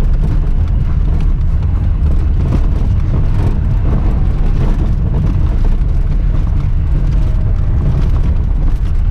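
A car drives on a race track at night, heard from inside as a loud, steady low engine and road rumble that fills the whole stretch without pause, with no speech.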